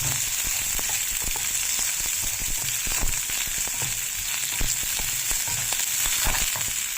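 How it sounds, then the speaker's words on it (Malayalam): Garlic and shallots sautéing in a pan give a steady, close, loud sizzle with occasional ticks and scrapes from stirring. "ഇനി നമ്മൾ എടുത്തു വെച്ചിരിക്കുന്ന വെളുത്തുള്ളിയും അതിൻ്റെ കൂടെ ചെറിയ ഉള്ളിയും കൂടെ ഇട്ടിട്ട് കുറച്ച് സമയം ഒന്ന് വഴറ്റിയെടുക്കാം"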